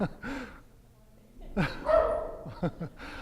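A dog barks and yips a few times at a conference, short sharp bursts heard over someone speaking to the audience.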